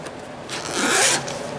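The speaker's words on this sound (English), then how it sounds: "Has a zipper opening style" A zipper pulls open along a soft, medium-hard sunglasses case, one continuous close rasp that swells in the middle and fades, with no talking.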